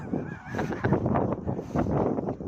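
Several short, nasal quacks from a small duck in quick succession, close and fairly loud, with slight background noise between calls.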